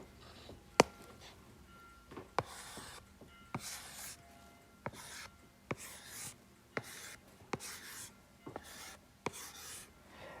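A pen scratches and rubs across paper while drawing business doodles, with soft strokes broken by sharp taps as the tip lifts and lands, close and intermittent over ten seconds.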